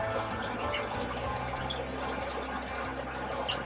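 Water filling an aquarium tank during a weekly fish room water change in a guppy garage: a steady, dense rushing and gurgling stream running continuously at moderate volume, with no voices.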